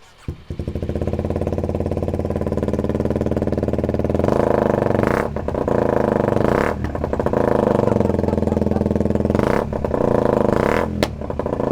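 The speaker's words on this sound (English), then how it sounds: "taking off the muffler here and just seeing what the bike sounds like" A Kawasaki Ninja 125 motorcycle with its muffler removed, idling loud and raw then revving repeatedly in sharp blips, close up and alone with no talk.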